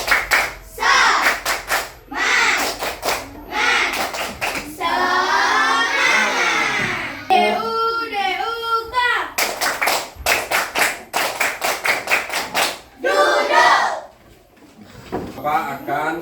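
A primary school class performs a rhythmic clap chant, children shouting phrases in unison between sharp, tightly synchronized bursts of clapping, close and loud, with patterned claps repeating across the room.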